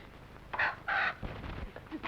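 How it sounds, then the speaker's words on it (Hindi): A comic rooster crow played as a sound effect from a man's upset stomach after eating undercooked chicken, two loud bursts followed by softer throaty noises, close and alone without speech. "कल की मुर्गी पेट फाड़ कर बाहर निकल रही है।"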